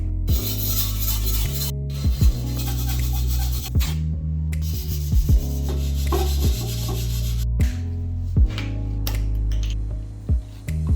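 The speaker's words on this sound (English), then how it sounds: "We'll do it with a white brush and some Scotch-Brite" A stainless steel Lamborghini Gallardo exhaust being scrubbed with a white brush and Scotch-Brite, giving loud, close, continuous rasping strokes in a steady back-and-forth rhythm, with brief pauses between passes.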